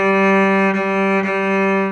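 A cello string that is out of tune, pitched nearer G than A, is bowed in one sustained, loud, harmonically rich tone with faint bow-change pulses, heard alone.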